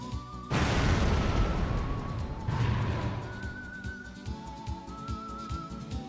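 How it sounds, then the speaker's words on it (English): In the video game Wild ARMs 3, the main cannon fires with a sudden loud blast that rumbles on, followed by a second boom, while whistling tones run over the top. "fire the main gun"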